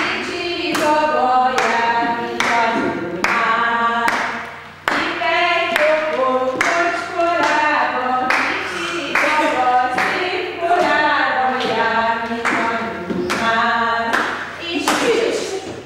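Mothers and babies clapping in a rhythm game class, a steady run of hand claps in time with singing voices that fill the room throughout.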